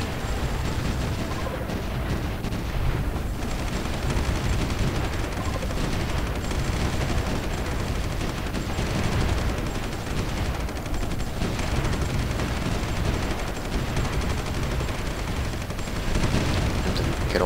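Continuous artillery and gunfire from the strategy game Supreme Ruler 2020, a dense, steady rumble of distant booms and crackling shots that never lets up, with no voices.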